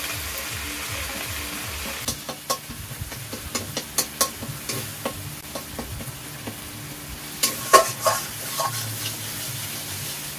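Spice paste fries with tomato in a pan for a fig dish, soft sizzling under repeated scraping strokes of a spoon, with a louder clatter near the end.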